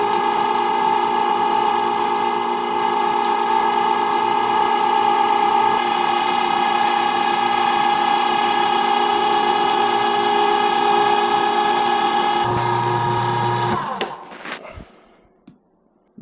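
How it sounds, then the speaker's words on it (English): An electric meat grinder works through four pounds of meat with a steady, loud motor whine and hum that holds constant for about fourteen seconds, then cuts off abruptly and winds down, leaving a few faint clicks. "see how long it takes to grind 4 pounds of meat"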